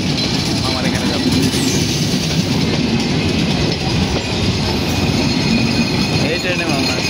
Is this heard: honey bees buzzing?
no